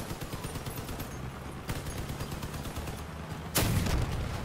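Cannon fire in the vehicle-combat video game Crossout, a steady stream of rapid gun blasts running through the whole stretch with one louder, closer boom near the end.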